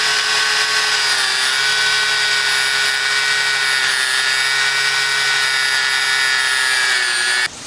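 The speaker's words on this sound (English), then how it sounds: "I'll use my grinder to take the bolts off, to just slice them off" An angle grinder spins at high speed against rusty bolts on an old blacksmith's bellows forge, a loud, steady whine with shrill overtones held without break for several seconds before cutting off abruptly.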